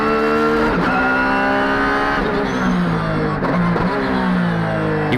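Tsuchiya's race car running a lap on used tires during a JDM time attack session, its engine revving loud and close, pitch climbing and dropping through gear changes, with brief tire squeal in the corners.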